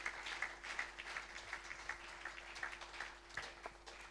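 A church congregation claps along in a quick, regular rhythm, faint and somewhat distant, with no talking on top.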